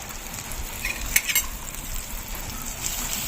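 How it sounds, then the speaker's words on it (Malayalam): Butter melting in a hot pot on the stove for a bread kothu dish, giving a steady soft sizzle with a few brief louder crackles near the middle, heard alone. "ഈ ബട്ടർ ഒന്നിട്ട് കൊടുക്കാം"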